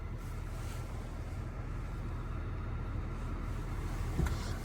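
Steady low rumble of a 2024 GMC Sierra Denali 2500HD with its 6.6L Duramax diesel driving on snow, continuous road and engine drone with wind noise and a faint thump near the end.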